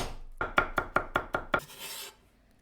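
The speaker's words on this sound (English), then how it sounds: "Chop 2 cloves of garlic." Knife chopping garlic cloves on a cutting board, about eight brisk, evenly spaced chops close up, followed by a short scraping sweep and one final chop, with no talking.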